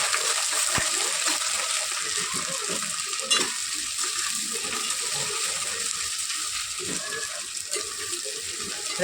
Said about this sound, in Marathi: छान असे फ्राय होऊन देऊयात